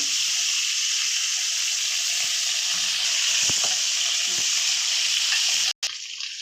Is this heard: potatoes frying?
yes